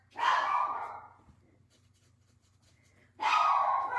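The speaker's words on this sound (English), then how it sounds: "I always know when I get a delivery because she barks" A dog barking indoors, two loud, drawn-out barks about three seconds apart with a low steady hum in the quiet gap between them.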